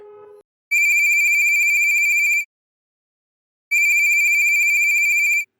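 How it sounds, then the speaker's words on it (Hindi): A mobile phone rings with an incoming call: two loud, close electronic trilling bursts of about two seconds each, separated by a silent gap, after a short opening tone. "तभी नीलम के फोन पर एक कॉल आती है।"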